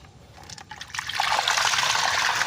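Water drains from a backyard catfish and tilapia tank through an opened drainage valve, starting as a soft trickle and building after about a second into a steady, full rushing flow.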